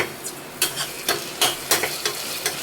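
Golden-brown onions frying in hot oil in a kadai with ginger garlic paste, stirred in a series of sharp scraping strokes about every half second over a low sizzle, close and without talk.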